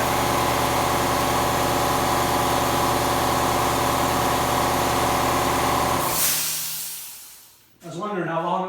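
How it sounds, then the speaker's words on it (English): An air compressor in a workshop runs loud and steady with a dense mechanical drone, then cuts out abruptly, leaving a short quiet gap before a voice speaks. "I was wondering how long it was going to be till that compressor kicked in"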